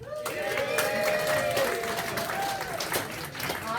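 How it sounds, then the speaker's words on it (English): At a general meeting, a crowd applauds a newly named committee chairperson, a sustained patter of many hands while a voice talks over the clapping. "and then we can give them a big round of applause."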